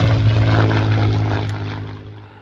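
An E-flite P-47D Thunderbolt Razorback RC model plane, 1.2 m span, with its propeller and electric motor running in a loud, steady drone that slowly fades as it pulls away.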